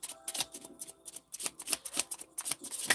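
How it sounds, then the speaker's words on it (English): Close, quiet shuffling of a tarot deck, with repeated short papery riffles and slaps in an uneven rhythm, with no talking. "A few more shuffles here."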